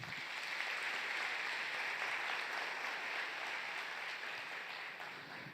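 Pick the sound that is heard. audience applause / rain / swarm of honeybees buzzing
audience applause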